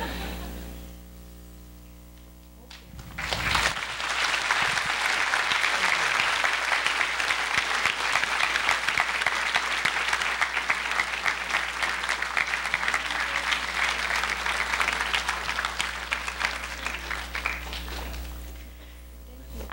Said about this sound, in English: Can we just give her one more round of applause?